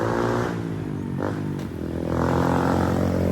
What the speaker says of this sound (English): The reason they have the loud muffler on the scooter